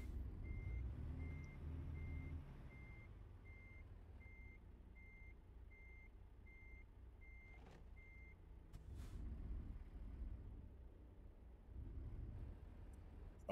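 In American Truck Simulator, a Peterbilt truck backs up with a regular, evenly spaced reversing beep over a low engine rumble, and a short hiss like an air brake sounds partway through.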